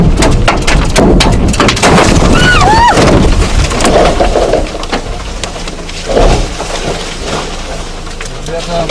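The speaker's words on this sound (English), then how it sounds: "At first, you can hear a slight crack from one of the trees, and then the tree falls." In a dense forest seen from a dashcam, trees crack and fall with loud splintering and rumbling crashes, while bird chirps and muffled voices run through the noisy recording.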